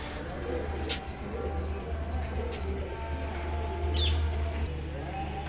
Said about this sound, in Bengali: পায়রা দেখেন